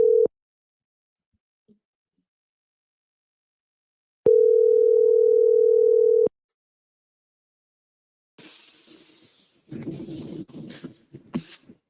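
A telephone dial tone sounds while someone is being called, as two steady pure beeps separated by silence, followed by faint rustling and handling noise near the end; no talk.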